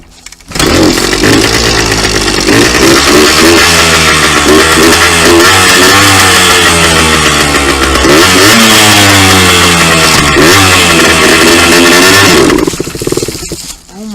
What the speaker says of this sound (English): I am not used to a freaking two-stroke, guys.